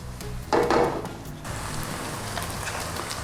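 Crispy noodle pancake with shrimp and chicken, Hong Kong style, frying in a pan: a steady soft crackling sizzle throughout, briefly louder near the start as it is disturbed, with no talk.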